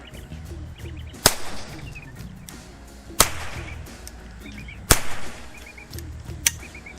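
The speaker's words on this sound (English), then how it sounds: "Sounds more like a gunshot, but dang, it's still quiet." Four sharp, muffled shots from a suppressed .22 pistol with subsonic ammunition, at irregular intervals, each a brief crack with a short tail, over quiet outdoor background with faint birdsong.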